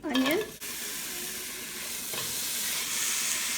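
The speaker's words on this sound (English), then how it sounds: "I'm going to go ahead and start off by sauteing our onion." Onion sautéing in a hot pan, a steady close sizzle and hiss that follows a brief clatter as it goes in, building slightly over a few seconds with no talk.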